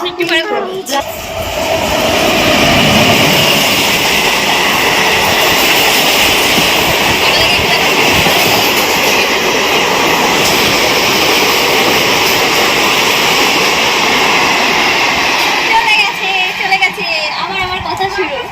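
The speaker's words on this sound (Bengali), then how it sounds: "কথা বলতে বলতে ট্রেন চলে এসেছিল আর অ্যানাউন্স করছিল" A train rumbles and roars steadily close by for a long stretch, a loud continuous rolling noise that eases off near the end.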